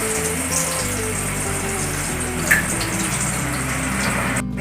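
Banana slices fry in hot coconut oil for banana chips, a loud, close, unbroken sizzling hiss that stays even throughout.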